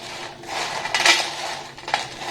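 Homemade rice chips, sun-dried until brittle, rattle and clatter as they are handled, giving a dry, crisp rustle with a few sharper bursts, up close and with no voices.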